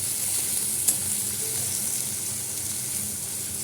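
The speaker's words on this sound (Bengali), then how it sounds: "এই যে চিংড়ি মাছগুলো একটু নাড়াচাড়া করে নিই" Prawns coated in salt and turmeric sizzle in a pan as they are stirred, giving a constant hissing fry with one brief click near the start and no voices.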